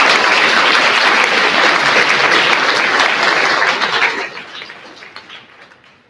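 A school awards crowd applauds a sport award winner with loud, sustained clapping that tapers off into scattered claps and quiet.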